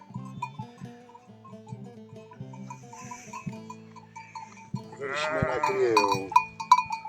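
Nearby lambs give wavering bleats toward the end, layered over a busy backdrop of sustained tones and clinking.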